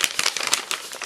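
A paper bag from Target being crumpled up close, a loud rapid crinkling and rustling that runs on with no pauses and no voices.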